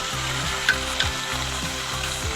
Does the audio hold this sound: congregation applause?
no